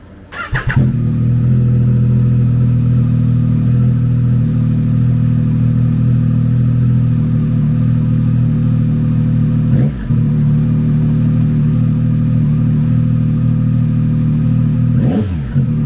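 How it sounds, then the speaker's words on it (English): A 2023 Yamaha XSR900 motorcycle with an 847cc inline three-cylinder engine runs at a loud, steady drone that holds for the whole stretch, broken only by two brief transient blips. "Powered by an 847cc inline 3-cylinder engine, the XSR900 puts 115 horsepower and 64 foot-pounds of torque through a 6-speed transmission."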